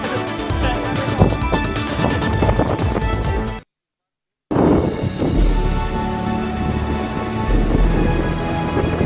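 Heavy rain pours during flooding, a dense, loud, continuous wash of water with a short cut to silence partway through before the downpour resumes, under a layer of other sound.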